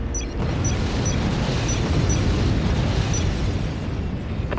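Explosions from an enemy air raid in the strategy video game Act of War: High Treason, a loud continuous roaring blast with rumbling booms and crackle that runs the whole stretch.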